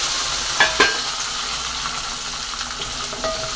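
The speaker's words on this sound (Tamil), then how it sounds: "கால் கிலோ பூண்டு எடுத்து உரித்து கழுவி வச்சுருக்கோம் அதை போட்டு வதக்கிக்கிறோம்" Peeled garlic cloves, about a quarter kilo, sauté in sesame oil for garlic chutney, with a continuous loud frying hiss and a couple of scraping stirs early on, with no voices.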